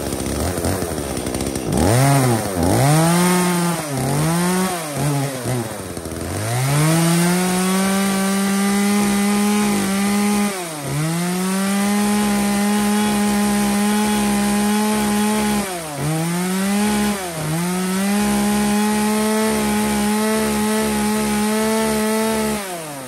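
A chainsaw runs loudly and close, its engine revving up and down repeatedly as it bites into wood, with steady cutting stretches between the surges.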